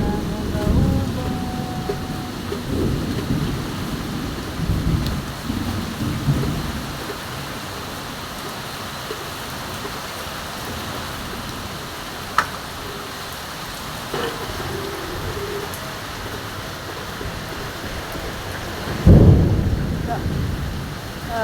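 Heavy rain pours steadily with a dense hiss, a few sharp knocks and a loud low rumble near the end.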